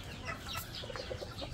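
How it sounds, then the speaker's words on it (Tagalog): A rooster in a backyard flock gives several soft, short clucks in quick succession, faint and close, over low background noise. "Tapos ito yung sa nating tandang."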